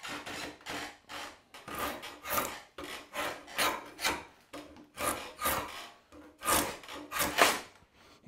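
A kiln-dried wood board has its corners taken off for lathe prep, likely by hand with a rasp or saw: a steady series of about a dozen close, rough scraping strokes in even rhythm, with no voices.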